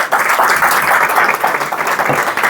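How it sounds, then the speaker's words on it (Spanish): Church congregation applauding, a brief, loud burst of many hands clapping close and continuous, with faint voices mixed in. "Dale un aplauso al Señor,"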